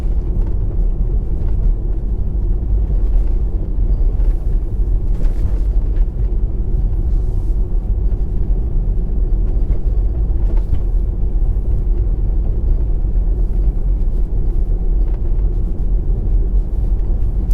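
A Tesla driving on a snow-covered road gives a constant low rumble of road and cabin noise throughout, with a few faint ticks above it and no speech.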